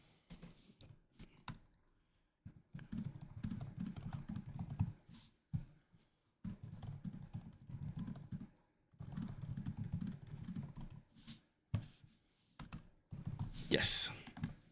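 Bursts of rapid typing on a computer keyboard, close and moderately loud, coming in several clusters of clicks separated by short pauses, with a brief sharper sound near the end.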